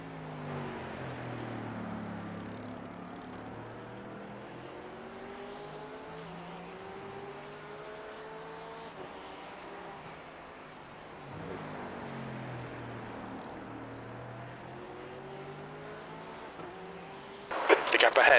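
Race car engines drone steadily through an endurance race at Daytona in iRacing, with a Mercedes running close behind, its pitch rising and falling with the laps; a voice talks over the engine noise.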